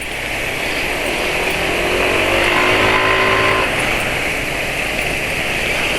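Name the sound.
car engine being revved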